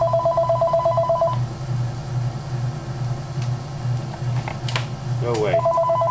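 An old telephone rings with a steady electronic warble in short bursts at the start and again at the end, over a continuous low hum, with brief clatter in between.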